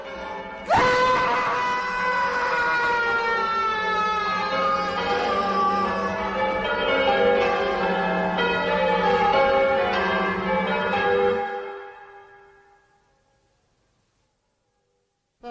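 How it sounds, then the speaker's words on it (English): Heavy church bells ring loudly and continuously, a dense clanging peal with rich overlapping tones that goes on for many seconds, then stops and fades into silence. "I never thought I should feel relieved at having the bells silenced, but they really are extremely loud."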